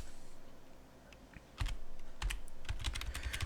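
Quick bursts of typing on a computer keyboard during a Linux Mint 18.3 to 19 upgrade, with close, sharp key clicks in irregular clusters following a short quiet stretch at the start.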